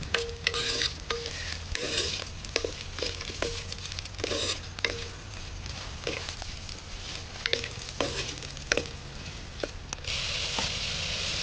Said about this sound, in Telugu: ఉల్లిగడ్డ, పచ్చిమిర్చి ఇవి మంచిగా వేపుకుందాం.